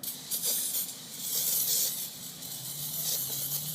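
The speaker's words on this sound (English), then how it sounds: "And you just spray all over." Liquid Wrench lubricant sprayed from an aerosol can over a knife blade before stonewashing, a close, steady hiss in short bursts with slight pulsing.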